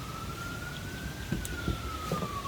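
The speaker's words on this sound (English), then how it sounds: "these good siren sounds" An emergency vehicle siren sounds outside, a faint, distant steady wail that slowly rises and falls under a soft background hum, with a few light knocks nearby.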